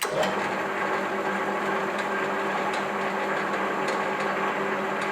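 A lathe turns at 200 RPM while machining Harley-Davidson motorcycle cylinders, producing a steady close mechanical whir with a constant hum, faint periodic ticks and a slight rattle throughout.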